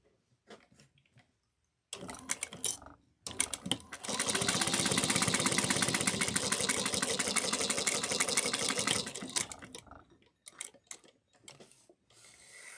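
A sewing machine runs a steady burst of rapid stitching on a fabric change pouch with a 1/8 inch stitch, loud and close, starting and stopping in short spurts before and after one long continuous run, with no talking.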